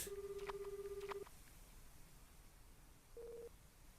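Electronic phone tones from the video game Astlibra Revision, a long steady beep with short clicks, then a brief second beep after a pause, faint against low background hiss.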